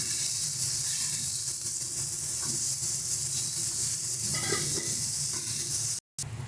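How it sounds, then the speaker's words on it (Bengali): Tomato with coriander powder, salt and other spices is stirred and fried in a pan for a bread pakora filling. A constant close hiss of sizzling runs throughout, broken by faint stirring scrapes and a brief dropout near the end. "সমস্ত মশলাগুলোকে দিয়ে খুব ভালো মতন মিশিয়ে নেব।"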